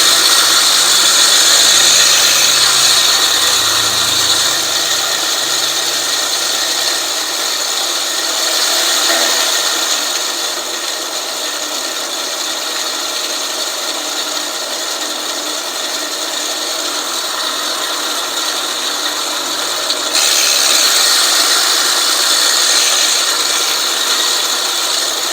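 A Honda GX120-powered 20-inch, seven-blade California Trimmer reel mower spins in reverse while backlapping with grinding compound. It makes a continuous close metallic whirring hiss that grows slightly quieter partway through and then swells again near the end.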